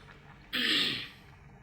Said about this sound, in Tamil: பயங்கர சவுண்டு. சாம்பார் கொதிக்குது பாருங்கள்.